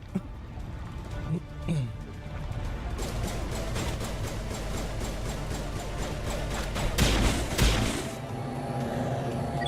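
Sustained suppressing gunfire in the Mass Effect video game, rapid rattling bursts of shots with heavier thuds and a loud blast near the end, continuous and intense with voices mixed in.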